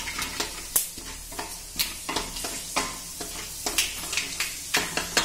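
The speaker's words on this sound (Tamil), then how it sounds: "வெந்தயம் நல்லா பொரியட்டும், செவர வரைக்கும், செவர வரைக்கும் நல்லா அப்படி கிண்டி விட்டுக்கலாம்." Fenugreek seeds fry in hot oil in a home kitchen pan, with a steady close sizzle broken by repeated scraping stirs of a spoon against the pan, roughly every half second.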